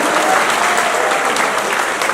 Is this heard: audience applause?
yes